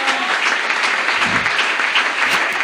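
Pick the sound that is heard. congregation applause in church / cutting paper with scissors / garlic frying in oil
congregation applause in church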